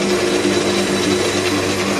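Steady, continuous machine whine of a lathe cutting metal at its lowest feed rate and 525 RPM, with a constant hum and tonal drone, no voices.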